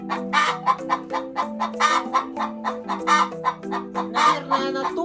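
A Maran hen cackles loudly and close, a rapid run of repeated squawking clucks after laying an egg, sounding alone with no talk.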